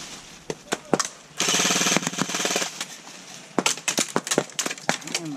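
Airsoft gun firing outdoors with a LiPo battery, heard as a sharp broadband burst of rapid automatic fire lasting about a second, then scattered single clicks and short volleys, fairly close and loud.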